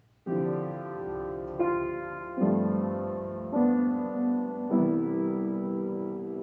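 A II-V-I cadence of sustained chords, likely on a keyboard, with four or five struck chords each held and gently decaying, close and clean with no voices.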